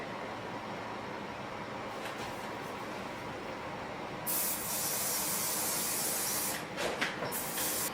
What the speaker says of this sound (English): now I'm gonna come back with my holding spray